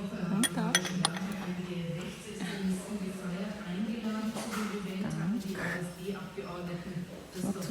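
Painted ceramic plates clink and chink against each other as they are handled at an outdoor flea market, with several sharp ringing taps over steady nearby chatter and someone talking throughout.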